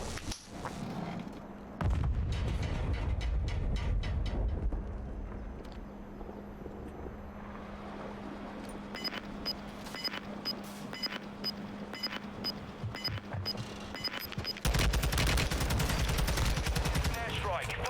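In a battle-royale video game, an airstrike brings a sequence of booming explosions and rapid gunfire, loud bursts crackling over a steady rumbling background, with a voice heard intermittently.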